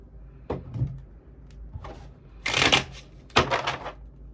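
Tarot cards being shuffled in a few separate quiet bursts of riffling and shuffling, close and soft, with short pauses between them and no speech.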